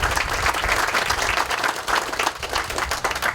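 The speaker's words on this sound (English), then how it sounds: "I think they deserve another round of applause" Close, vigorous audience applause at the groundbreaking ceremony for the DCCC Activity Center, dense rapid clapping throughout with a few murmuring voices.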